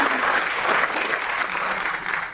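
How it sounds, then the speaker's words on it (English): Steady audience applause fills a book festival hall, an even wash of many hands clapping at moderate volume with no voices over it. "So a round of applause for them for sponsoring us."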